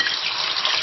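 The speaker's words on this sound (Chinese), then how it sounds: "我们倒入牛肉" Beef is poured into oil heated to about 130 degrees in a wok for spicy beef sauce, giving a brief, steady hiss of sizzling and spattering at close range with no talk.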